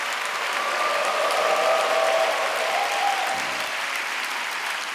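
A church audience claps in encouragement during a live-broadcast sermon, a dense, steady roar of many hands applauding for several seconds, with faint voices mixed in.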